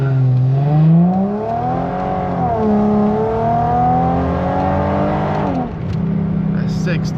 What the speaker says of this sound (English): this is my first time launching the car, so let's see what it does